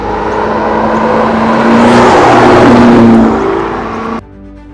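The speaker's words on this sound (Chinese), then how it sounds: "Portofino 搭载了连续荣获国际年度引擎大奖的 Ferrari V8 双涡轮增压引擎，输出功率高达600匹" A Ferrari Portofino's twin-turbo V8 roars past, swelling to a loud peak and fading before stopping abruptly, with no voices.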